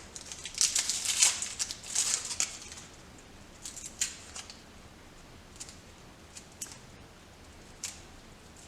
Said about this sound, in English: I'm gonna peel our onion.